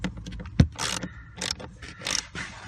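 A 5/16 socket tightens screws on the plastic blower fan assembly of a Chevy Aveo, with a string of short ratcheting clicks, scrapes and a sharp knock, close and uneven in rhythm.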